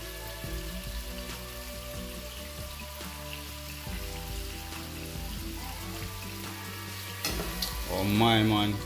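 Chicken stir fry with thyme sizzles steadily in a pan, a continuous hiss of frying close by that swells near the end, with a voice briefly heard over it.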